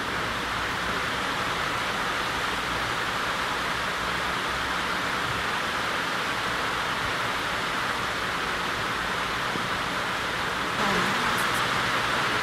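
Heavy rain pours steadily during a school quiz, a loud continuous hiss that fills the room without pause and masks other sounds.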